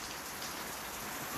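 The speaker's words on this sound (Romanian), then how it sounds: "Taci, ploaie, taci." Rain pours steadily in the survival game Last Day on Earth, a dense, even hiss of drops on surfaces, close and continuous through a brief stretch with no voices.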